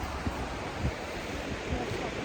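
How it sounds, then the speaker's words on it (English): Steady wind buffeting the microphone with a broad roar of Baltic Sea surf behind it on Jurmala Beach, Latvia, continuous and fairly close, with no voices. "It's a little bit windy, but other than that, the wind's even the wind's warm"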